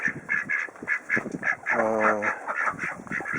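Khaki Campbell ducks quack in a run of nasal calls beside a loafing shed on a homestead, with someone talking over and between the calls at close range.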